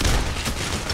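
Rapid automatic gunfire in the video game PAYDAY: The Heist, a dense one-second burst of loud overlapping shots heard alone.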